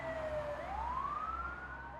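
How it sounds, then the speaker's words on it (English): An ambulance siren wails, rising and falling in pitch over steady traffic rumble, moderately distant and continuous. "they shut the ambulance doors and sped off with the sirens blaring"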